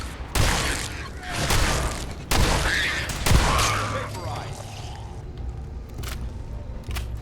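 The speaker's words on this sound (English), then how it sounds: "Shotguns. Surprisingly effective at completely disintegrating targets." Shotgun blasts in the video game Fallout 4 boom out in sharp, loud bursts, several shots spaced a second or so apart with crashing impacts and game effects trailing after them.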